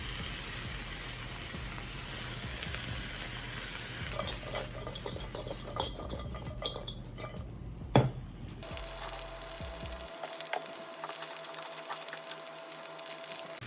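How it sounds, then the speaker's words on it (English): Onions and vegetables sauté in a pan for a vegan stir fry, a moderate sizzle with stirring scrapes and utensil taps, a sharp knock midway, then a quieter hiss with a faint steady hum. "I'll probably toss in these onions because I want them to saute a little bit."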